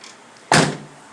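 Car or truck door being swung open, a single sharp clunk with a brief rattling tail, close and alone against quiet background.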